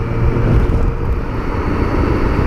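A 2017 BMW K1600GT motorcycle's engine drones steadily under way, blended with heavy low rumble and wind noise, continuous and loud without a break.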